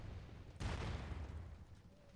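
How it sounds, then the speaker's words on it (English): Gunfire in the battle royale video game Realm Royale, a loud burst of shots erupting about halfway through over steady game background noise, then fading to a rumbling tail. "Oh no. Gunfire."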